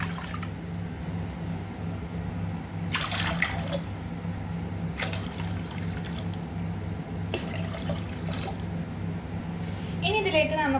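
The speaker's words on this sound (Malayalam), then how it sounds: "അതിനകത്തോട്ട് നമുക്ക് 4 കപ്പ് വെള്ളം ഒഴിച്ചു കൊടുക്കാം" Four cups of water poured into a kitchen bowl while making chicken popcorn, heard as several bursts of splashing pouring over a steady low hum, with brief rattles near the end.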